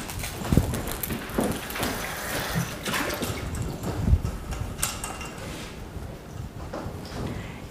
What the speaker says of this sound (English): So I'm going to give it a quick wash here.